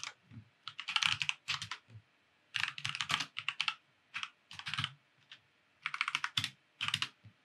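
Computer keyboard typing at a Linux command line, close and clear, coming in bursts of rapid keystrokes separated by brief pauses, with no talk over it.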